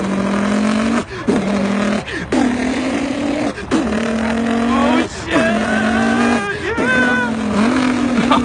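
A kid's voice imitates a Mustang engine boosted with nitro, making loud, continuous revving vroom sounds in several bursts broken by short breaths, with pitch sweeps like gear shifts.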